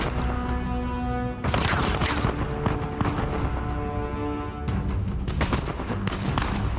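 Enemy gunfire in the Uncharted 4 video game, rapid overlapping shots and cracking bursts over a constant game soundscape, loud and dense with brief lulls.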